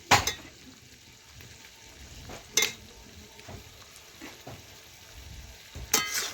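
Potatoes frying in a pan of chicken do pyaza, a steady soft sizzle broken by several louder scraping stirs of a utensil against the pan, close up.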